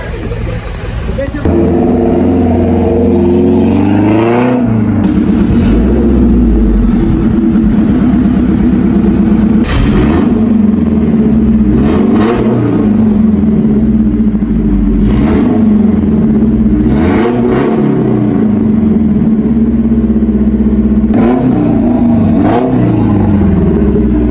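A 4G63 DOHC engine in an owner-type jeep runs loudly and steadily up close, with a constant deep drone and repeated rising revs as it pulls away, people talking over it.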